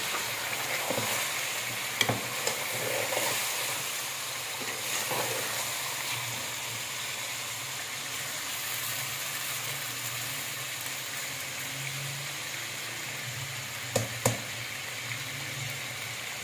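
Tomatoes sizzle and fry in a pot for Pakistani chicken karhi, a steady soft hiss over low heat with a few faint clinks of stirring, no voices.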